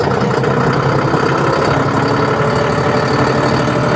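A John Deere 5310 CRDi tractor's diesel engine runs steadily at 1500 RPM, a loud, dense, even drone close by with no breaks or rhythm changes.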